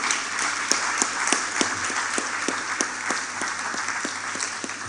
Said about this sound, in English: Please keep clapping, keep celebrating.